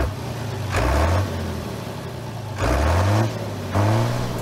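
A tractor engine revs three times, each burst climbing sharply in pitch and dropping back to a steady idle, loud and close with no talk.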